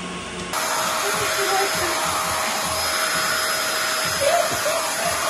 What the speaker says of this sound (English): This dog likes a hairdryer too.